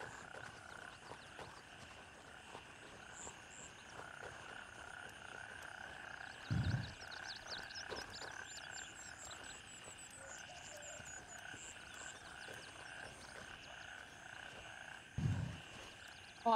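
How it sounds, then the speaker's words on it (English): Frogs croaking in a nighttime swamp area of Gray Zone Warfare, a steady chorus of chirps and croaks with faint insect buzz, broken by two short low thumps. "All I hear is frogs."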